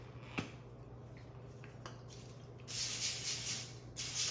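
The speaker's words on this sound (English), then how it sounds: "And then I'm gonna lightly spray my parchment." Cooking spray hisses onto parchment paper in two short bursts, the first longer than the second, close and fairly faint after a quiet stretch with a small tap.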